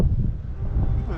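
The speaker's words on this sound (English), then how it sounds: "why is it so windy?" Wind gusts across an outdoor site where solar panels are being installed, a steady low roaring rumble buffeting the microphone throughout.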